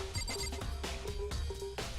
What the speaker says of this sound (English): Random phone call?